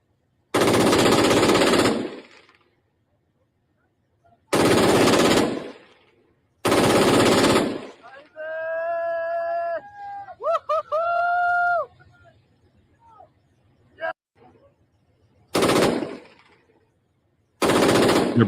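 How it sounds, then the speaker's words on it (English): Soldiers' gunfire in news footage, several long loud bursts of rapid automatic fire separated by silences, with a stretch of tonal calls between them. "oh, they're just shooting."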